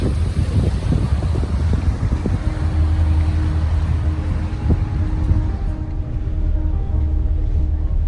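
A boat engine rumbles steadily up close as the boat pulls away from a dock at Milford Sound, New Zealand, mixed with gusty wind buffeting the microphone, the low drone easing slightly toward the end.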